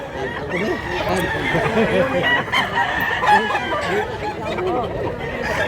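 Roosters at a chicken seller's stall crow and cluck amid a busy mix of fowl calls, with people talking nearby throughout.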